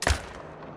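A single rifle shot in the hunting game Call of the Wild cracks loud and close at the start, then its echo rolls away and fades into quiet.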